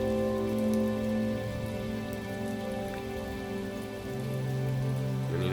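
Rain falls steadily on a surface, a dense patter of drops over a low sustained tonal hum, even and continuous throughout with no voices.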